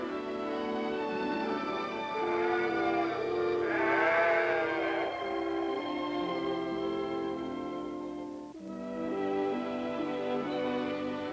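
A flock of sheep in a mountain meadow bleat over one another, calling in overlapping cries at moderate distance, with no one talking.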